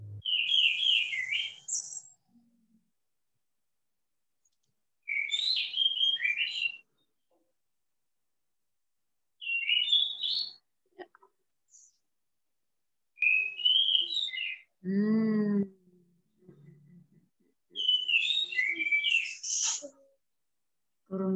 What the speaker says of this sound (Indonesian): Burungnya siapa ya yang bunyi ya?